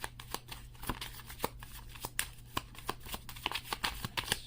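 Gypsy oracle cards shuffled by hand, a crisp run of riffling flicks and soft slaps in a quick, irregular rhythm, close and clear with no talking over a faint low hum.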